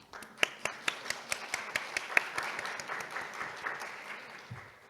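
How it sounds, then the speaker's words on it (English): Conference audience at an environmental policy forum applauds a speaker's introduction, sharp individual claps standing out over a steady wash of clapping that holds for several seconds before tapering. "Please give him a big round of applause."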